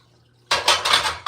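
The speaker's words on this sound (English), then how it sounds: "Let me just really quickly put these dishes so I can wash them real quick." Dishes and cutlery clatter as they are gathered up for washing, a sudden close burst of ceramic and metal clinks after a quiet start.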